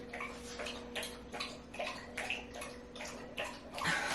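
A dog licking in a home during cleaning, heard as a rapid series of wet, smacking clicks repeating about twice a second, fairly close, over a steady background hum, with no talking.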